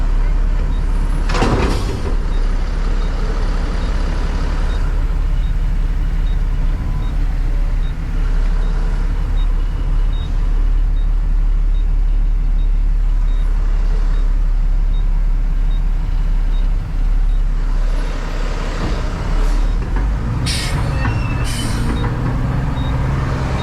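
A truck idles on a street beneath low overhead wires, its engine a constant, loud low rumble filling the scene, with a few brief sharper knocks and hisses breaking through near the start and end.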